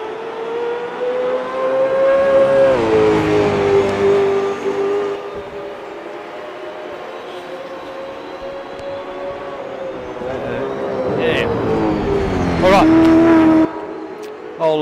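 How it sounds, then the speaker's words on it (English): V8 Supercars race cars drone at high revs and pitch down as they pass on the Silverstone track, with a roaring surge near the end, fairly loud and steady. "you can hopefully hear these cars, and they sound pretty good"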